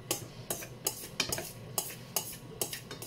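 A spoon stirs and mixes a multicolored rice and vegetable salad in a bowl, giving a series of regular scraping, clinking strokes at close range.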